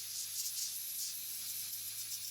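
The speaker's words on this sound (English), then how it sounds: "I don't want to melt plastic stoppers, so I immediately cool them with compressed air." Compressed air blows steadily over freshly heated plastic stoppers during a tool chest renovation, a continuous loud, close hiss with a slight fluttering texture and no talk.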